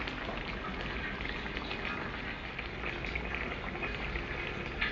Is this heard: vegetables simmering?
yes